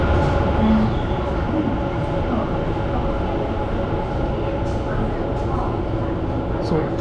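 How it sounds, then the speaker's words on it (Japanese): A train in Taiwan rumbles steadily close by, a constant low roar with faint rail clatter and a few brief squeaks. "電車に乗ります。"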